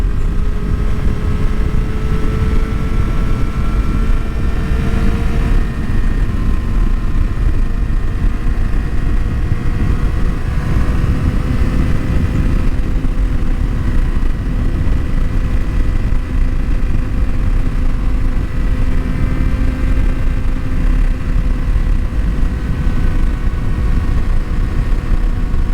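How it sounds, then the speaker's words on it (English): 2023 Kawasaki ZX-6R 636 motorcycle under way on twisty roads, engine droning steadily with slowly shifting pitch through long pulls, mixed with constant wind roar throughout, loud and continuous with no speech. "acceleration on this bike is insane"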